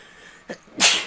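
A video-game character sneezes twice during a Final Fantasy VI Pixel Remaster cutscene, first a short soft burst and then a louder, longer sneeze close up, with no talking.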